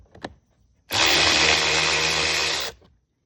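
An ATV battery post is taken off with a power tool. A faint tap comes first, then one steady, close, whirring burst lasts just under two seconds and stops abruptly.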